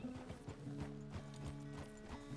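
A horse walks at a steady pace, its hooves clip-clopping in an even rhythm of close, distinct knocks over a continuous low background hum.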